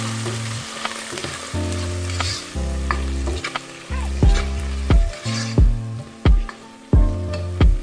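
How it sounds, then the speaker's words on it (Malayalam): A medium-sized tomato sautéing in an oil-filled pan for chana pulav, a steady sizzle broken by repeated scraping stirs of a spoon against the pan, close and clear with no talking. "ഇത് ഒരു തക്കാളി, ഒരു മീഡിയം സൈസ് തക്കാളി, അത് ഇതിലിട്ട് കൊടുക്കുകയാണ് ഞാൻ. നന്നായി വഴറ്റി കൊടുക്കാം."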